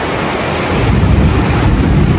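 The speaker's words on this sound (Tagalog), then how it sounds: "So, lakas ng ulan, lakas ng kulog, idlat." Heavy rain pours outside a house while thunder rumbles, a loud, dense wash of noise that swells toward the end, with no voices.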